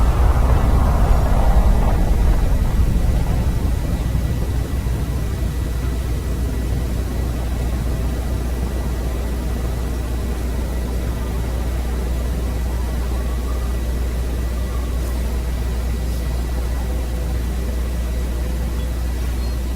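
Spaceship engines in a video game boosting to maximum impulse, a steady broadband roar that is loudest in the first few seconds and then settles into a constant drone for the rest of the clip.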